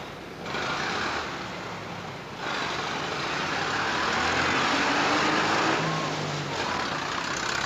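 A truck drives by with a broad, loud rumble of engine and road noise that swells, dips briefly, then returns and holds steady near the listener, with no voices heard.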